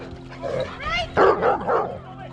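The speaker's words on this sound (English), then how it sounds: "You got a nice big deep bark" A big dog gives several deep, full barks mixed with a few higher yips and whimpers, heard close by outdoors in a country park.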